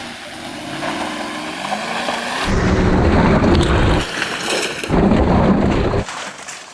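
Porsche Cayenne SUV crawling off-road, its engine roaring in a loud, rough, close surge that swells and drops as it strains over the terrain, with rumbling and crunching from below.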